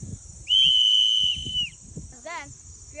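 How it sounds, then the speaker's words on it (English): A loud, shrill 3D printed plastic safety whistle for hikes gives one sustained high blast of about a second, with talk and laughter around it and a warbling call just after. "check out our 3D printed safety whistles for hikes. They are very loud."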